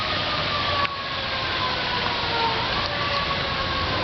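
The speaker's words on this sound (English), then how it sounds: "you can even hear the ambulances and all them going off" Ambulance and emergency sirens wail continuously at a distance during a widespread power outage, a steady rising and falling tone over a broad background rumble.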